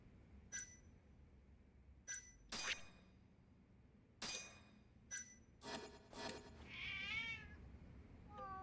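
A video game cat lets out a series of short, bright meows with chime-like dings between them, ending in a longer wavering caterwaul, all clear and close over a quiet game background.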